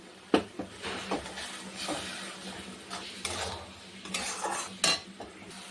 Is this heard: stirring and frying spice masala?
yes